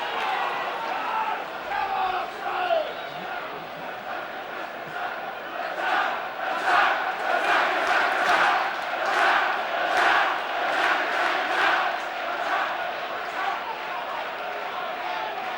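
Football crowd at an Oxford United versus Leyton Orient match in 2006, a broad roar of chanting and urging from the stands with rhythmic rising surges, heard at a distance.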